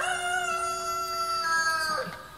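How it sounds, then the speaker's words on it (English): Roosters crow in long drawn-out calls on a hillside homestead with clay ground and raised garden beds, one loud and near with another overlapping, no talk heard. "The roosters are saying hi."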